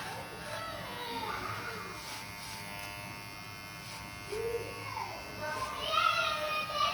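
Electric hair clipper buzzing steadily while cutting hair in a home trim, a continuous motor hum that swells louder toward the end, with faint voices in the background.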